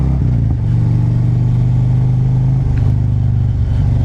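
Harley-Davidson motorcycle engine rumbling steadily and loud close by while riding through a residential neighborhood on a cold day, a deep continuous low drone with slight shifts in pitch.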